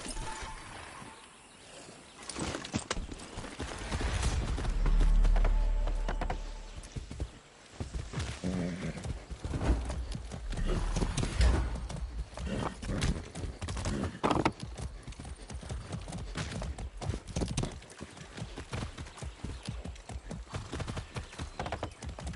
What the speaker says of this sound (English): I really love the horse riding in this game.